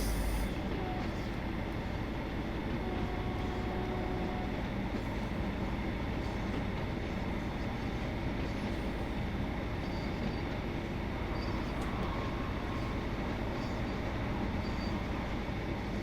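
A Class 150 train in Train Sim World 2 rumbles along steadily with a constant engine and rail drone, heard close and even throughout without pauses.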